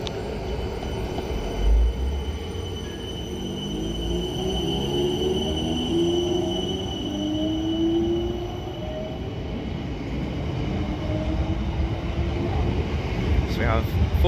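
A Class 455 electric multiple unit pulls away on the South Western main line toward London Waterloo, a steady low rumble and rolling wheel noise building gradually, with a brief squeal near the end and people talking faintly.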